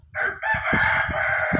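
An Aseel rooster crows loudly and close by, one sustained, strained cock-a-doodle-doo of under two seconds with some low clucking or scuffing underneath.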